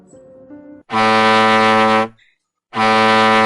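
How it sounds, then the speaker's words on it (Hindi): A deep, loud ship's horn blasts twice, each long sustained tone about a second, separated by a short pause, preceded by faint low rumbling. "कैप्टन ने जहाज के हॉर्न को जोर जोर से बजाना शुरू किया।"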